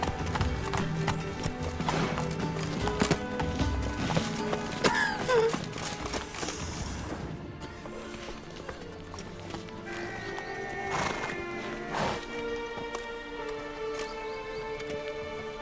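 Roach, a horse in The Witcher 3, gallops with rapid rhythmic hoofbeats and gives a whinnying neigh midway, heard over game music and ambient sound.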